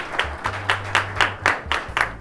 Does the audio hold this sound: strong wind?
no